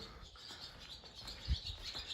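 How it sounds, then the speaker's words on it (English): Bird chirping in an abandoned mill building, faint high tweets scattered over a quiet hiss, with a soft thump partway through. "that bird scared me"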